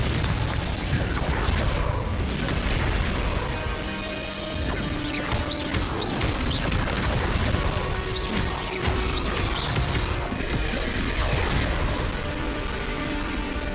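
In the Hogwarts Legacy video game, a Confringo blasting spell sets off booming explosions and smashing crashes amid a dense, continuous barrage of combat effects, loud and close, with faint voices mixed in.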